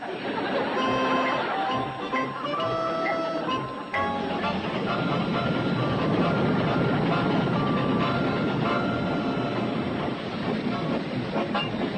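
A train rumbles steadily for the whole stretch, a continuous rolling roar with tuneful music layered over it.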